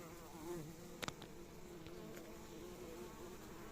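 Honeybees buzz around a hive entrance in Istanbul as foragers return with pollen-laden legs, a faint continuous drone with a couple of sharp clicks near the start.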